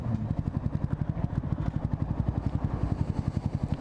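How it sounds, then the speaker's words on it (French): A Yamaha MT 125 motorcycle with an unbaffled exhaust idles close by, its loud, steady, rapid engine pulse chugging evenly throughout with no talk over it. "Petite 125. On apprécie. MT 125. Il y a un échappement pas chicané."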